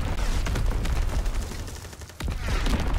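An artillery barrage in a WWII shooter game, a dense, continuous rumble of heavy blasts and rattling gunfire with a brief dip before the pounding resumes loudly.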